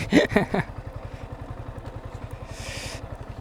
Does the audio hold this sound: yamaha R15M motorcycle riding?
yes